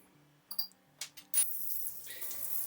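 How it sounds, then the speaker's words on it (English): Cool water pours into wide-mouth mason jars holding sprouting seeds, a steady close splashing hiss that starts after a few brief clinks and knocks and carries on to the end. "I'm just going to pour, half of it full of water."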